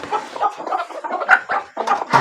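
Several desi chickens in a farm cage clucking and squawking close by in a continuous, busy chorus, with overlapping calls and a few sharper cries.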